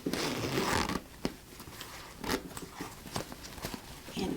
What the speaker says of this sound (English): let's go ahead and open up this zipper here